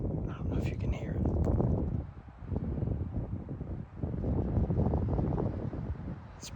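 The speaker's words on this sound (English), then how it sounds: "But it's so windy." Strong wind blowing in the big woods of Idaho during an elk hunt, buffeting the microphone in loud rumbling gusts that rise and fall in waves, with brief lulls between them.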